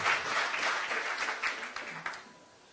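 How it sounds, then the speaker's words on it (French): Audience at a French political gathering in a hall claps warmly, a moderate round of applause that tapers off toward the end with a few last scattered claps. "on peut les applaudir et les remercier pour cet accueil chaleureux"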